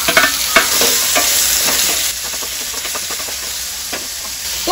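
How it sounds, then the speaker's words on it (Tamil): Garlic, dried red chillies and curry leaves frying in a couple of teaspoons of hot oil, a loud steady sizzle and hiss with sharp crackles and spatters, close up and without talk. "2 டீஸ்பூன் அளவுக்கு எண்ணெய் ஊத்தி இருக்கேன் 2 பல் பூண்டு ஃபர்ஸ்ட் சேர்த்துக்கலாம் அப்புறம் காரத்துக்கு வந்து நான் வந்து ஒரு 4 வரமிளகாய் எடுத்துக்கேன்"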